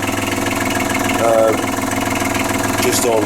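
An engine ticking over at about 800 rpm, a steady low rumbling idle heard up close while someone talks over it.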